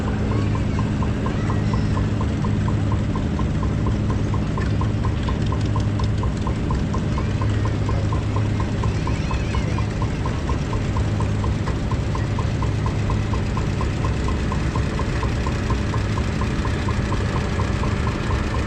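An antique tractor fitted with a flathead V8 engine idles and chugs steadily close by, a loud continuous rumble with a rhythmic knocking pulse and no voices.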